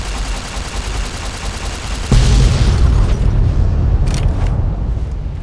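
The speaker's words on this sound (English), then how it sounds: "Oh, it's a missile. Let's blow it up." A missile blown up in Fallout New Vegas, a sudden heavy explosive boom with a low rumbling tail and a few sharp cracks afterward, loud and close over ongoing game noise.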